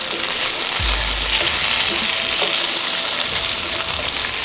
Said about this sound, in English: I'm now going to throw in my beans, string beans. Give it a nice stir.